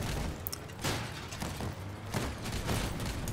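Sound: gunfire from weapons in the video game Crossout

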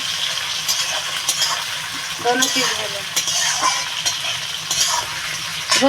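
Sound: onion sizzling and frying in pan, stirred

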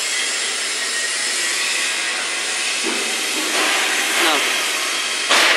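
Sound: Messer TeraBlade CNC cutting machine moving back

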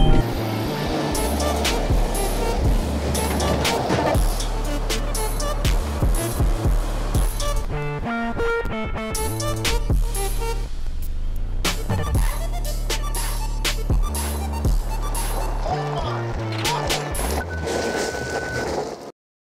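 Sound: Kia Mohave 2020 SUV launch control acceleration

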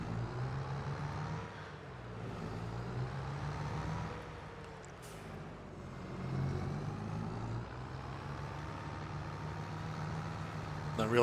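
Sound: car speeding up from behind in Farming Simulator 22 video game

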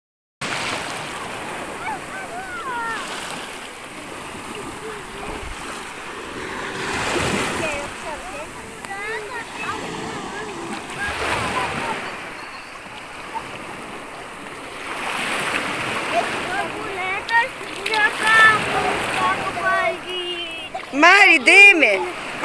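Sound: sea waves and splashing while people swim

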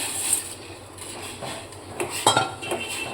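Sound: wheat sev added to boiling water with oil in pot

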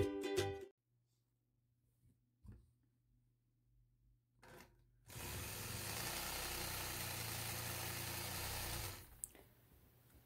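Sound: sewing machine quilting a block with a ruler

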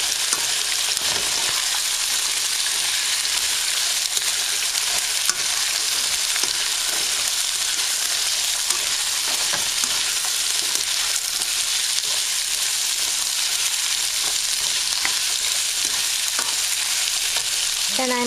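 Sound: stir-frying vegetables in a pan

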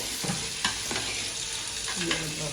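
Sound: stirring prawn biryani with rice

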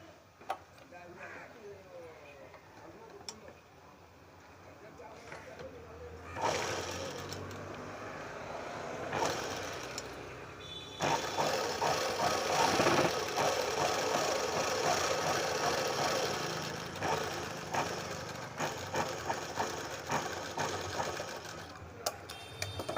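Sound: sewing machine stitching a dress collar

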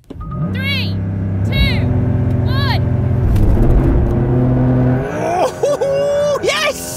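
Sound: Porsche 911 GTS hybrid and petrol accelerating in drag race

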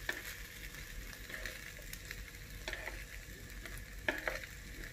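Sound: stir-frying vegetarian rice noodles in a pan

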